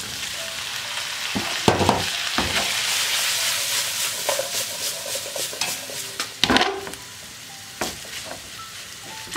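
Onion and cherry tomatoes fry in a pan with a steady close sizzle, broken by repeated utensil knocks and scrapes as they are stirred, the hiss fading somewhat toward the end.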